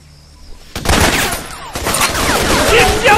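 Gunfire in the jungle shooter Raven Squad, loud rapid bursts of automatic fire breaking out after a quiet start and continuing densely, with bird calls mixed in.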